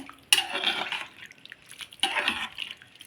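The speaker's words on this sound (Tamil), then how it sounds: "இப்போது நான் தண்ணி வந்து இவ்வளோ ஊற்றிக்கிறேன்" Water poured into a pan of potato masala in two short bursts, each a splashy, bubbling pour lasting under a second, moderately close and fairly soft.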